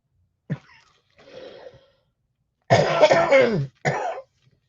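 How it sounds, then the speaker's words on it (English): A short cough, then a few seconds later a longer, harsh burst of coughing with throat-clearing, followed by one more cough. Close and fairly loud. "If I start coughing too, I'm going to have a fit."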